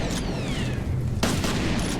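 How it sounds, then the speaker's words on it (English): Shotgun blasts in the first-person shooter game F.E.A.R., a heavy booming shot midway that cuts through dense, continuous combat noise and rumble, close and loud. "Ow, that one hit me with a shotgun."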